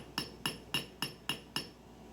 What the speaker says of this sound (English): Find your rhythm and be consistent, keeping the blows of the hammer even.